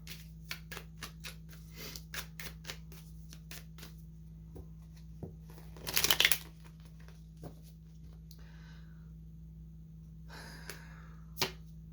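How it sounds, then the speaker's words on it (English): Tarot cards are handled and shuffled with scattered soft flicks and taps, then a louder burst of riffling as a card is drawn, over a quiet room hum. "Let's pull one more card."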